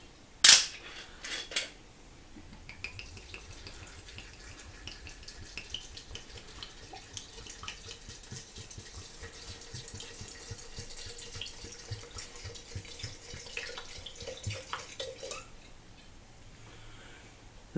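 Gordon's gin pours into a bottle of damsons in a steady, gurgling liquid stream lasting several seconds, preceded by a sharp cap click, close and moderately quiet.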